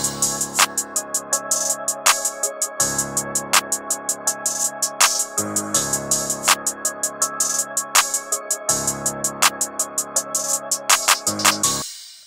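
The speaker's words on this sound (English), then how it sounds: "laid this open hat down just to fill up some gaps and add some bounce to the beat" Hard trap beat in FL Studio with an open hi-hat pattern filling the gaps: fast metallic hat ticks and periodic brighter splashes over looping sustained chords, steady and instrumental throughout.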